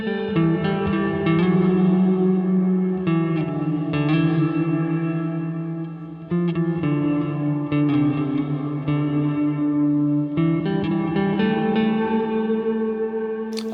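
A sustained, chord-heavy electric guitar through a Keeley Caverns V2 pedal, drenched in thick reverb and echo, notes smearing together into a wide, washed-out wall of sound with no voices.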